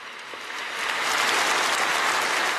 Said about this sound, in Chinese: 话还没说完，现场就爆出热烈掌声